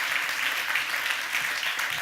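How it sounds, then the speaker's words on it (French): An audience applauds a volunteer at a magic and technology show, the clapping dense and steady at moderate volume, with no talk over it. "Très bien, merci, on peut l'applaudir."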